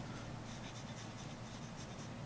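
A Moonman M2 fountain pen with a medium nib writes on paper, giving a very faint, continuous soft scratching of strokes, close up and quiet, with no talking.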